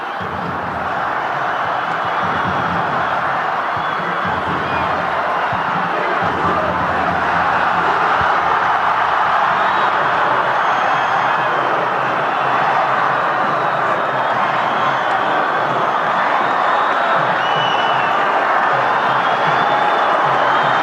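A large football stadium crowd in Armenia during a World Cup qualifier against Spain, a steady dense roar of cheering and chanting that holds throughout, loud and continuous with no break.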